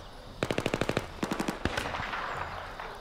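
Rapid bursts of automatic gunfire in Battlefield 3, two quick volleys followed by a few single shots, loud and close, then fading.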